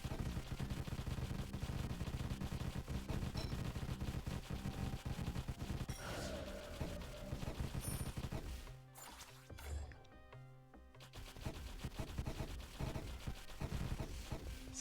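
Dense gunfire from the pixel-art video game DeathState, with rapid bursts of shots and impacts packed together, a short lull and dropout partway through, then firing again, with no talk over it.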